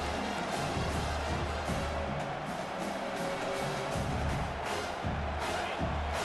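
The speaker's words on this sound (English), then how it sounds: "Decibels rising as the crowd gets behind this defense on third down." Football stadium crowd roaring steadily during a third-down defensive stand against Texas A&M, a dense, continuous wash of cheering that swells slightly and holds without breaks.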